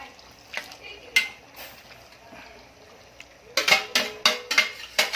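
Liver for igado sizzles quietly in a pan, then a spoon scrapes and clanks against the metal in a quick run of stirring strokes near the end.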